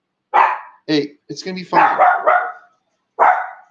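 A dog barks and yips in several short, loud bursts close by, with a person speaking soothingly between the barks.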